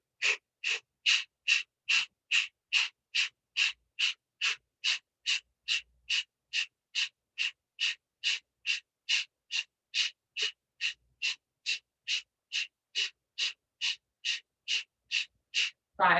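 Rapid rhythmic breath exercise during a hot yoga class, about thirty forceful, evenly spaced exhalations or gasps in a steady beat, close and loud with no talking.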